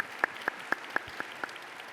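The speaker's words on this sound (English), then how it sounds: "If you could please join me in a round of applause for our speakers this morning." Six sparse, evenly spaced claps from an audience for the morning speakers at a state housing leaders' plenary session, faint and thin against a quiet room.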